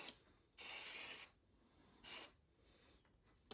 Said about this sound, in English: A little spray up here.